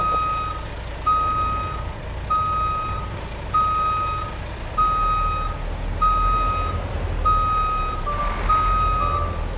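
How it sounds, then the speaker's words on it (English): Reversing buzzer on a truck in American Truck Simulator, a steady series of about eight evenly spaced beeps over a low engine rumble. "There's a buzzer going off."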